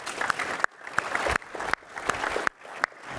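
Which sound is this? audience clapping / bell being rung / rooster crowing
audience clapping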